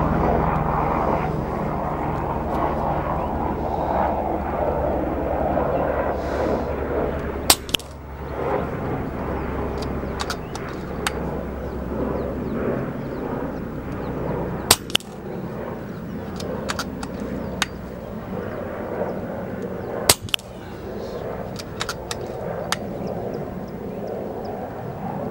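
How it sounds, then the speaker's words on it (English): An FX Crown air rifle fires five quick shots at a 50-meter target, each a sharp, close crack standing out over a steady, loud background rumble like wind or a distant engine drone. "Okay, 5 shots downrange, nice and fast actually."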